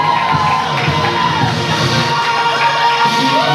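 A loud crowd cheers, shouts and yells without a break as guests enter a hosted show, with high excited voices mixed into the din.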